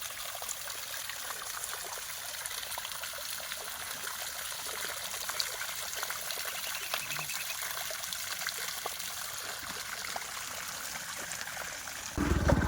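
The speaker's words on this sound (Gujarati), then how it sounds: "કા નેરો નીકળતો હોય, કા પછી નદી હોય, નાળું હોય, આ રીતનું પાણી આવતું હોય," A small stream trickles through the Gir forest, a soft, continuous babble of running water heard faintly and steadily throughout, with a slightly louder burst at the very end.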